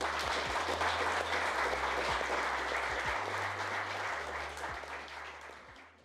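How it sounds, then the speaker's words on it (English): Big round of applause at a Colchester United football club event, dense sustained clapping from a crowd with a low hum underneath, gradually fading toward the end. "So massive round of applause"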